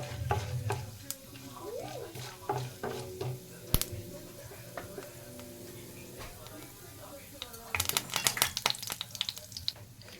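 Chana dal sizzles softly in oil for a dosa, a low frying crackle under intermittent stirring clicks and utensil knocks, with a burst of sharper scraping near the end and faint kitchen hum.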